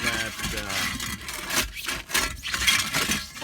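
Flathead shovel scraping foam off a concrete roof tile, a rough rasping drag in repeated strokes, close and fairly loud, with someone talking over parts of it.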